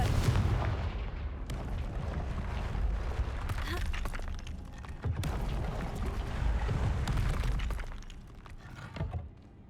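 The Confringo fire spell in Hogwarts Legacy sets off repeated booming blasts with crackling, shattering impacts over several seconds, and a voice talks over the action.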